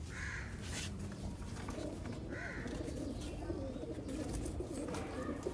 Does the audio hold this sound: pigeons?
yes